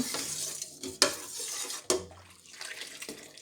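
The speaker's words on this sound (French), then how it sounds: "On remue." A warm homemade laundry soap mixture of soap flakes and soda is stirred in a pot, giving quiet liquid swishes with two sharp knocks of the utensil against the side.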